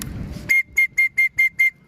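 Six short, sharp, loud whistles in a steady rhythm, made by a person calling training pigeons outdoors during a toss in San Pablo, Laguna, after a brief stretch of background noise.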